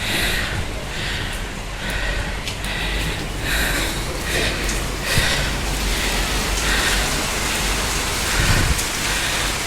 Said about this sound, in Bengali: বৃষ্টি চালু